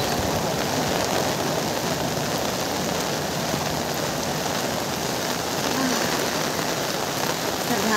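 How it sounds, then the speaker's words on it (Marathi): Steady rain pours down in the early morning, a dense, even hiss with no breaks over the whole stretch, fairly close and loud, with no voices. "बघा पाऊस चालू आहे"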